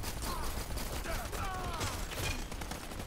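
Sniper and turret gunfire in the Dirty Bomb shooter crackles continuously through a busy, noisy battle mix, the shots dense and fairly faint with no clear separate bangs.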